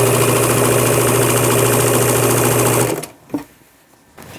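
A sewing machine stitches through layers of fabric while an upcycled summer dress is sewn, running as a loud, steady, close whir for about three seconds before stopping abruptly, leaving a few faint handling knocks.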